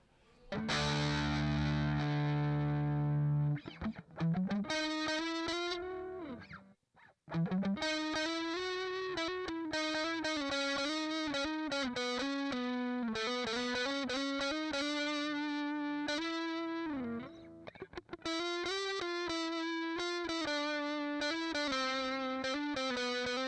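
Heavily distorted electric guitar through a Korg ToneWorks 104ds Hyper Distortion pedal plays sustained, gritty chords and melodic lines, loud and continuous, with one brief dropout partway through.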